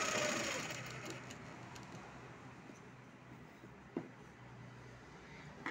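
A sewing machine stitching a 40-inch blouse runs in a steady quiet whirr close by, slowing and trailing off after a brief burst at the start, with a faint click near the middle and another at the end.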